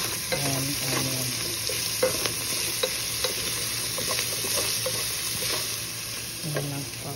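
Ginger, garlic and onion sautéing in oil alongside browned pork for ginisang kangkong, giving a steady soft sizzle with scattered stirring scrapes throughout, fairly quiet and with no talking.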